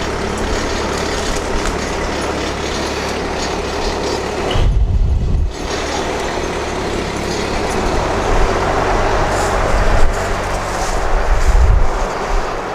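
A machine engine idles steadily as it warms its hydraulic fluid, a continuous close drone with low, rumbling surges and brief louder bumps, heard alone without talk.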